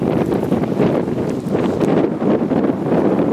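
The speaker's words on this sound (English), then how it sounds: "It's getting windy, it's very, very cloudy" Strong wind buffets the microphone on a cloudy, rocky seashore, a steady loud roar with gusty surges and no pauses.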